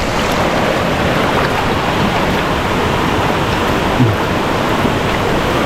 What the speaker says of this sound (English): As I can see, the tide is rough.